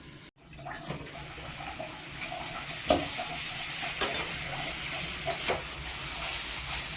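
Mixed vegetables for a navratan korma, made without onion or garlic, fry in a covered pan. A continuous soft sizzle and hiss runs throughout, with a few light clinks and taps and no talking.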